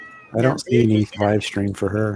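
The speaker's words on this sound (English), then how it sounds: "No, that's my cat." A pet cat meows close by in a string of short, loud cries, overlapping with a person talking.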